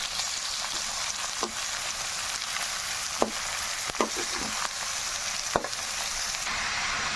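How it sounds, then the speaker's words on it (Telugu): Chicken keema sizzles in a frying pan while a spatula stirs it, a constant close hiss broken by several sharp scraping clicks of the utensil against the pan. "అంతా కలిసేలాగా కలుపుకున్నాం కదా"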